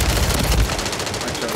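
Automatic weapon fire in the Warzone 3 shooter, with a short, loud, dense burst that stops partway through the clip, followed by quieter game sound.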